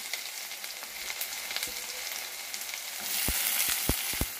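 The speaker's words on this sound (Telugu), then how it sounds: "ఇప్పుడు ఆయిల్ కూడా కాగింది, ఆనియన్స్ వేసుకున్నాం" Three chopped onions frying in hot oil in a steel kadai, a continuous close sizzle that grows louder partway through, punctuated by a few sharp spatula taps against the pan.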